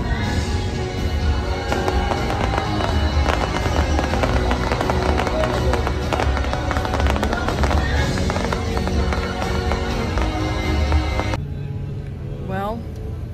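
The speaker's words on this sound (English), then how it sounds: "we're about to see the fireworks show" A Disney park fireworks show booms and crackles continuously at a distance, layered with crowd noise and people talking nearby, with the bursts fading toward the end.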